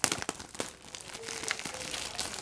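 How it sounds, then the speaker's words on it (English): Protective plastic film peeled off AirPods Pro packaging: close crinkling and crackling with a few sharp snaps at the start, then a softer continuous rustle. "we need to peel the rest of it off"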